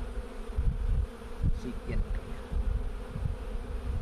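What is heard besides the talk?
honeybees buzzing at an open hive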